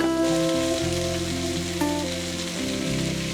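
Spring onions sautéing in a pan for chicken fried rice, giving a steady, close, loud sizzle with faint stirring, no voices.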